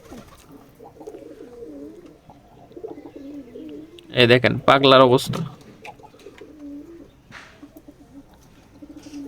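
Homing pigeons and a young local pigeon coo in a loud burst of throaty calls lasting about two seconds, close by, with someone talking before and after.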